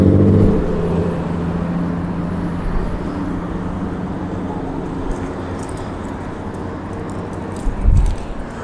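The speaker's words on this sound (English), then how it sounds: "It's quite busy here on the promenade. Look at all this traffic." Busy road traffic rolls along a seaside promenade during the illuminations, a continuous moderate rumble of passing vehicles with wind noise and a louder pass near the end.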